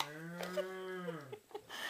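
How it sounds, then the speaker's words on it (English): A toy cow gives a single drawn-out electronic moo, steady and fairly close, heard alone with no talking. "That goes moo."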